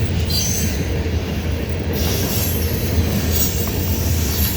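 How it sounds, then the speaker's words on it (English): An eastbound CSX freight train hauling ethanol tank cars rolls past close by at speed, a loud continuous rumble of wheels on rail with some squealing and no talk. "So yeah, it's the ethanol train."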